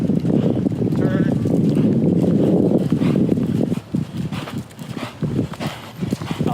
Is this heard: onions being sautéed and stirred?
no